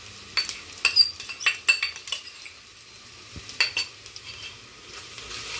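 A spoon scrapes and stirs ginger garlic paste in a pan for a mushroom donne biryani, giving quick close clinks and scrapes over a faint sizzle, then a quieter stretch and a few more strokes.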